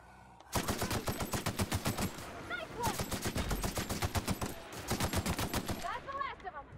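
Rapid automatic gunfire from a weapon in The Outer Worlds rattles out in three long bursts, loud and close, with brief pauses between them and faint shell or effect chirps.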